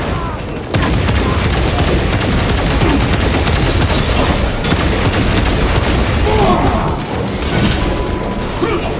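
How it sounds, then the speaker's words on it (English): A crack grenade detonates in Warhammer 40,000: Space Marine 2, a loud sustained burst of blasts and clattering debris that fills the whole stretch after a brief quiet start, with rumbling low end throughout. "Using crack grenade!"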